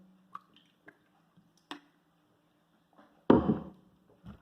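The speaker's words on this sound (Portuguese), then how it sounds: "Só deixa eu tomar um golinho" Small sips of water from a cup, with faint drips and wet mouth clicks followed by one louder gulping swallow, close and quiet with no talk.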